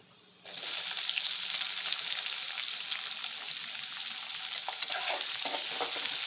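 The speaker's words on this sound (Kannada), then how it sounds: "ಈಗ ನಾನು ಒಂದು ದೊಡ್ಡ ಎರಡು ಈರುಳ್ಳಿ ತಗೊಂಡು ಸಣ್ಣ ಕಟ್ ಮಾಡ್ಕೊಂಡಿದ್ದೀನಿ ಅದು ಹಾಕ್ಕೊಳ್ತಾ ಇದ್ದೀನಿ" Small-cut onions hit hot oil for mango chitranna and burst into a loud, close, continuous crackling sizzle that starts suddenly after a brief quiet moment and keeps going, with no voices over it.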